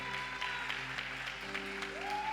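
A church congregation gives a big round of applause to the Lord during a prayer vigil: faint, distant clapping under a steady organ-like sustained tone, with a rising pitch sweep near the end.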